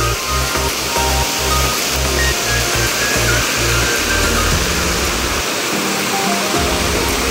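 Donne Falls waterfall near Ankola, Hichkad, pours in a steady, loud roar of rushing water that fills the whole clip on its own, with no voices over it.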